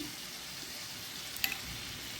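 Chillies fry gently on a low flame in a spiced curd masala, giving a quiet, steady sizzling hiss throughout, with one faint brief tap near the middle.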